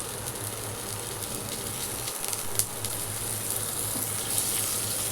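Blanched potato pieces tossed into hot oil with cumin and whole spices for a Bengali vegetarian panchorotno dish, giving a steady, close, hissing sizzle with a low hum beneath and no talk.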